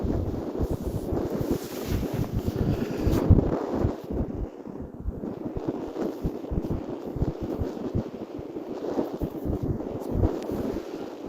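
Wind at 15 to 20 mph blows across the microphone outdoors, with loud, irregular gusty rumbling that rises and falls throughout and has no talking over it.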